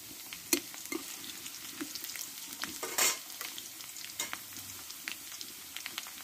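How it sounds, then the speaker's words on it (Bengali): Garlic cloves and green chilli fry in oil beside potatoes, a quiet sizzle punctuated by irregular clinks and scrapes of stirring, with one louder burst midway. "এবার এখানে কয়েক কোয়া আমি রসুন দিয়ে দেব।"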